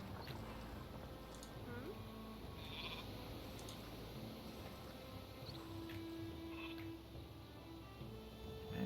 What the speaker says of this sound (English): We could slaughter these sheep to begin with.